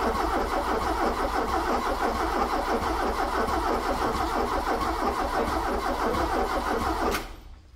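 A Volkswagen Golf 2 petrol engine catches and runs steadily after being restarted, a loud continuous mid-pitched engine drone close to the microphone that cuts off abruptly near the end.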